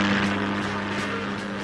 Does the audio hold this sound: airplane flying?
yes